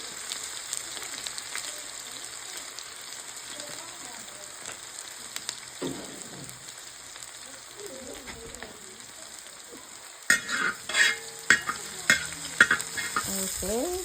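Dried chilli, fennel seeds, crushed ginger and garlic sizzle in hot oil as the base for a pork roast, with a soft constant frying hiss and louder stirring scrapes and clatter near the end.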